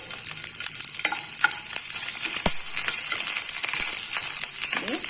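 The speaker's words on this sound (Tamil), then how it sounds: "நாலு பூண்டு புல் ஒன்று ரெண்டாக கட்டிட்டுருக்கோம் அதையும் இதோட சேர்த்துக்கலாம் வதங்கட்டும்" Garlic cloves and curry leaves sauté in hot oil in a pan, giving a close, busy crackle and sizzle with frequent spoon scrapes and light clinks against the metal.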